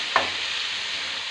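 Tomato pieces hiss and sizzle in a hot pan for a gutti vankaya curry, a steady close frying noise with one brief stir-like clatter near the start.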